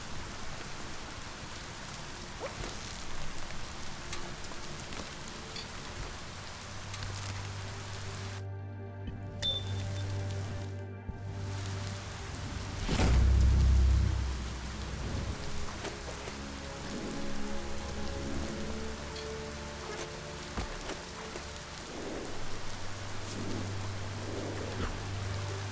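Steady rain in the action game Biomutant, a constant soft patter on surfaces with a low hum underneath, a brief dropout partway through and a swell of low rumble in the middle.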